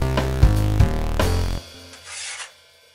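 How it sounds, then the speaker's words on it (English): Steel trowel scraping plaster onto a drywall corner while fitting angle bead, a loud close rasping smear lasting about a second and a half, then fading to a softer scrape. "Just hold your trowel like that and just scrape a bit of plaster on the wall, just like that."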